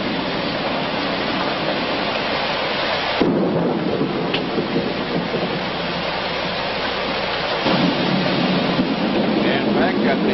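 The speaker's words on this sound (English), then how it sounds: "And back at the Renaissance Hotel, they are enjoying the first decent rains in 4 months." Heavy thunderstorm rain pours steadily in a built-up area near a hotel, a dense, constant roar with deep rumbles of thunder rising and swelling through it, loud and close throughout.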